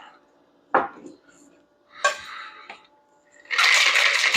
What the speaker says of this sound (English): Shake that up good.